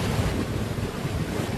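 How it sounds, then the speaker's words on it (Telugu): Floodwater rushes around a temple in Kamareddy district during heavy low-pressure rains, a steady, loud broadband roar of churning water with wind-like hiss, continuous and close with no voices. "టెంపుల్ను వరద ప్రవాహం ఎలా ముంచెత్తిందో."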